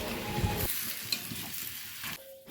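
Potatoes fry in hot oil in a home kitchen pan while a mutton curry is made, a steady close sizzle with stirring scrapes, the loud frying dropping back after the first half-second to a quieter hiss.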